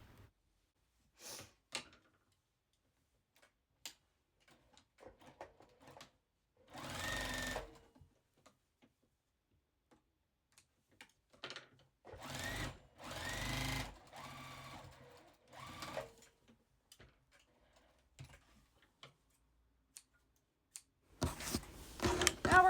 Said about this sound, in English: Now place the top of your heart on top of the bottom of your heart and stitch across.